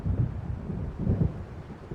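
Low rumbling thunder of an approaching storm in the video game Alan Wake, two deep swelling rolls over a steady windy, rain-like background, with no talk.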